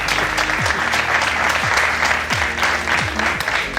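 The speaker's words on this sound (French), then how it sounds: "on va l'acclamer très fort" A television studio audience applauds steadily and loudly to welcome a co-host, a dense sustained clapping that runs throughout with occasional crowd noise underneath.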